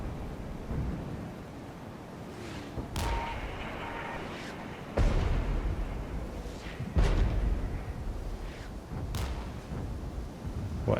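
Mortar fire in the war video game Regiments: several heavy booming blasts spaced a few seconds apart, each a sharp thump with a rumbling tail over a low, steady battlefield background.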